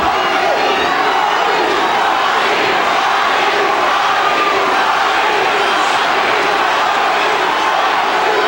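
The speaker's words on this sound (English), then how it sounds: "Crowd trying to urge on Tommy Hearns for one last moment here" Boxing arena crowd roaring to urge on a fighter in the closing minute of a bout, a steady, dense wash of cheering and shouting that fills the whole stretch without a break.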